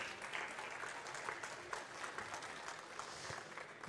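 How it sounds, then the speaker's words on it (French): Applause from the audience at a water agency keynote session, a moderate crowd clapping in an even, continuous patter for a few seconds, fairly quiet and without voices over it. "je pense qu'on peut les applaudir"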